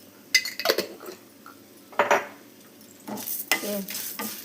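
Urad dal and cumin frying in a pan, stirred with a utensil that scrapes and clinks against the metal in a few separate bursts, with a faint sizzle underneath and no talking.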